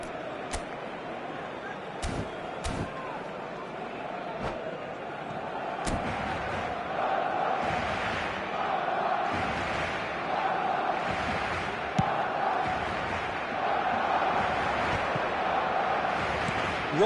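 Stadium crowd in an eFootball match on PS5 keeps up a broad, steady roar with rising swells and sharp thumps of play, beneath a commentator's voice.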